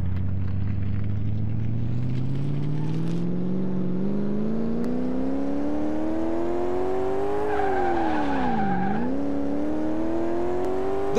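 A 1973 Porsche Carrera RS in Car Mechanic Simulator 2018, its engine revving steadily higher as it accelerates toward a wall, briefly dipping and recovering near the end, loud and continuous with faint tire noise.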